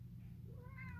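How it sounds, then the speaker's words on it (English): A house cat gives a single short, quiet meow with a rising then falling pitch over a low background rumble. "Here comes Delphine, here comes the cat."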